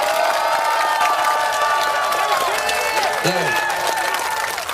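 A crowd at a political rally in Gangnam claps and cheers, a dense, loud wash of applause with whoops and voices rising above it, continuous throughout and close.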